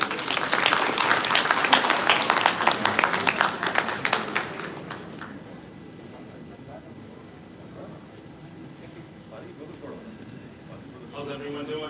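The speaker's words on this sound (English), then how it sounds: "Please give a big round of applause to Mr." Audience applause at a convention gala dinner in Atlanta, loud dense clapping that fades out after about five seconds, leaving quiet room noise and faint murmuring, then a voice speaking at the end.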